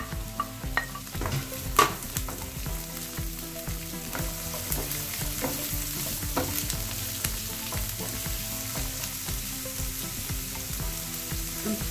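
Carrots and onions sizzle in a frying pan with steady crackling fat, while a utensil stirs and scrapes against the pan in irregular clacks throughout, close and continuous, no voices.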